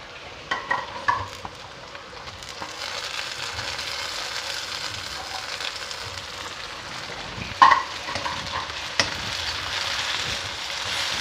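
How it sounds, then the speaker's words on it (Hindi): Chopped onions and tomatoes fry in a pot while a spoon stirs them, giving a soft steady sizzle broken by scattered scraping clinks against the metal. "प्याज की भुनाई के साथ साथ मैं इसमें टमाटर भी डाल देती हूँ, ताकि उसकी भी अच्छे तरीके से भुनाई हो जाए।"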